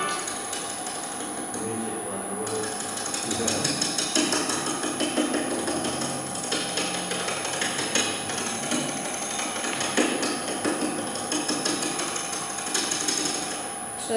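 A small wood lathe spins while a tool takes a couple of cuts, giving a continuous whirring hum with a steady high whine and rapid chattering ticks, close and moderately loud, with no talking.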